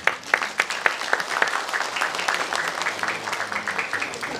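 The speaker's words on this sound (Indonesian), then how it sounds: "Tepuk tangan semuanya." An audience claps at a community charity gathering in a village, with a few sharp, separate claps at first and then a steady patter of moderate applause that holds throughout.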